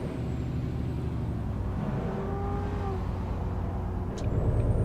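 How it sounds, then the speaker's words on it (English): Engine drone from a Crown Victoria V8 in the American Truck Simulator video game, a steady low hum with a rising whine partway through and a louder surge near the end, no talk. "Or that V8 engine from that Crown Vic sounds amazing."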